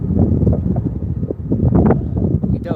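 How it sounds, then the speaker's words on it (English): Wind buffeting a microphone outdoors at a summer music festival in Windsor, a continuous loud low rumble with gusting surges throughout. "It's a bit of a wind blowing, and the cloud is coming over."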